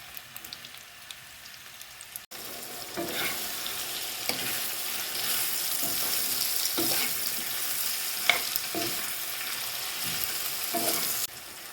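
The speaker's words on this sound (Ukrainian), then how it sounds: "Нагрілася олія, висипаю сюди цибулю." Steady crackling sizzle of onions frying in hot oil, continuous and fairly close, with occasional stirring scrapes and pops.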